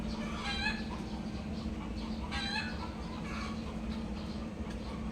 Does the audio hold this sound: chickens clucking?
yes